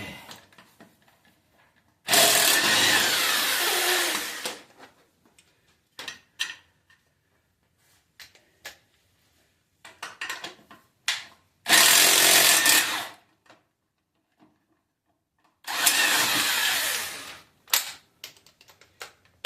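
Three loud bursts of a power tool whirring during car tie rod work, each a few seconds long, separated by quieter clicks, taps and handling noises.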